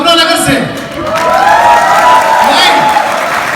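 Seminar audience in a Radisson hotel hall in Faridabad clapping and cheering loudly throughout, a dense wash of applause with whoops and a voice shouting over it.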